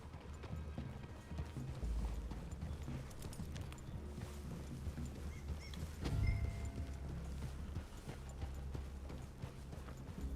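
Horses walking in the video game Red Dead Redemption II, steady clip-clop of hooves on the ground with a snort or whinny, layered over music and ambient outdoor sound, no clear talking.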